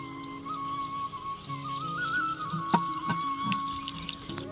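Tap water poured over a deity idol during a Ram Navami ritual bath: a steady stream of running water with a faint whistling tone and a few soft knocks throughout.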